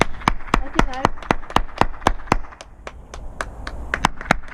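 People clap outdoors at 8 o'clock on an evening in late March 2020, with close, sharp handclaps in a steady rhythm, several per second, while voices talk nearby.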